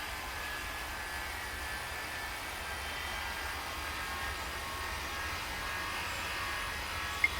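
An airliner takes off from runway 05 right at Auckland in the airport tower game Tower! Simulator 3, a steady, even jet roar that holds at a moderate distance for the whole stretch, with no talking.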